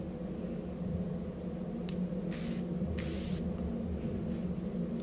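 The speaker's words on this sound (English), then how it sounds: "To finish up the look, I'm gonna spray some Hydra Beauty Essence Mist from Chanel." Chanel Hydra Beauty Essence Mist sprayed in two quick, close hissing bursts from a pump bottle against a steady background hum.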